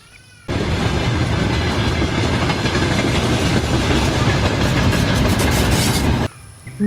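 A toy train runs along a toy railway track, a loud steady clattering whir that starts abruptly, continues without pause for about six seconds, then cuts off.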